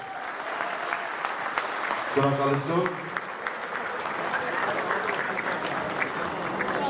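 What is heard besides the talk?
wedding guests applauding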